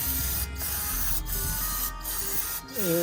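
Brake parts cleaner is sprayed onto the valve cover of a 2015 Honda CR-V AWD K24 engine: a near, continuous aerosol hiss with a few short dips where the spray briefly pauses.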